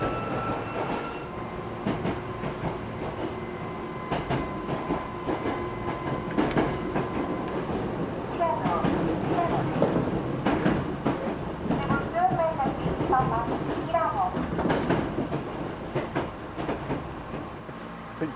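A Nosei Railway train runs along the tracks through mountain country, with continuous rumbling wheel noise, rhythmic clicks and faint squeals, at moderate distance.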